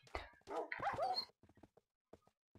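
Minecraft dogs whine and yip up close in a few short bursts, followed by softer, scattered whimpers and small sounds.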